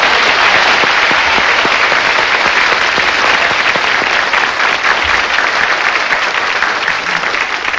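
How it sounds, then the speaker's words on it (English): Loud, sustained studio audience applause on a 1983 TV game show, a thick, even wash of many hands clapping close by that holds steady throughout. "I think you deserve one terrific round of applause."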